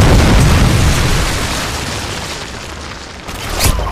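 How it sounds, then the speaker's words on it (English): A predator missile explodes in Modern Warfare 2, a loud booming blast that rolls off into a long rumbling tail before a second burst near the end. "Friendly predator missile inbound."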